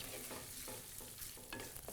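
Fennel seeds sizzle and crackle in hot oil as a tempering for a spicy Chettinad chicken curry, a soft continuous frying hiss with brief stirring scrapes.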